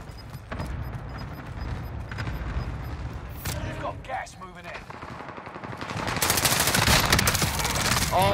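Call of Duty: Modern Warfare gunfire: bursts and single shots rattle through a busy battle soundscape, with voices in the mix and the shooting growing louder and denser toward the end.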